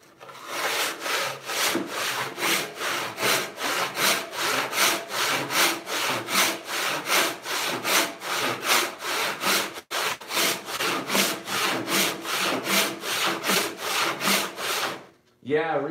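Fast, regular hand-saw strokes cut through an 8-inch-wide walnut board being resawn by hand, about two dozen loud close rasps with a brief break, then a clatter at the end.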